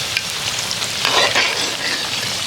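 Puchka puris bubble and sizzle in a pan of hot oil, a continuous crackle with a swell of stirring and splashing midway, close and moderately loud.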